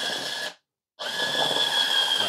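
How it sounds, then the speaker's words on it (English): The motor of a Hurricane battery-operated juicer, loaded with an orange, whines steadily and closely, cuts out for a moment, then starts again with the same high hum. "let's hit the button to turn it on"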